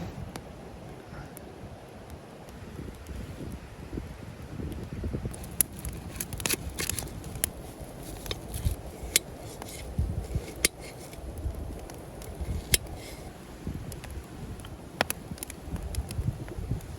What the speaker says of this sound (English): It's around 4 degrees Celsius and it's really windy.